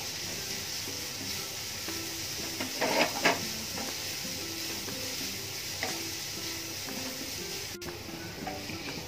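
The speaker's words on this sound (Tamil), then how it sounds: "வெங்காயம் வதங்கிறதுக்கு வேண்டி லைட்டாக உப்பு போட்டுக்கிறேன்" Onions sautéing in a pan with salt, garlic and ginger give a steady close sizzle, with a few scrapes of stirring partway through and no talking.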